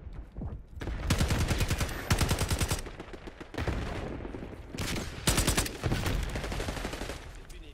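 Bursts of loud shotgun fire in Call of Duty: Black Ops 6 on the Nuketown map, heavy blasts in quick clusters with brief pauses between volleys, up close and alone.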